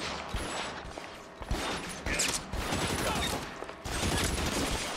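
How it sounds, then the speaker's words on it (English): Gunfire crackles from all sides in the video game L.A. Noire, a dense, continuous barrage of shots and mechanical clatter lasting throughout at steady, fairly loud level. "I'm getting shot from every single direction"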